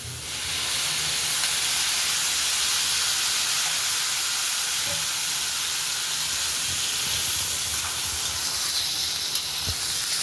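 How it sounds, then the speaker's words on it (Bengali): Water hits a hot pan of fried raw potatoes for soya curry, producing a loud, sustained steam hiss and sizzle that runs the whole time with faint bubbling beneath. "এখন দেখেন জলটা দিয়ে দিচ্ছি।"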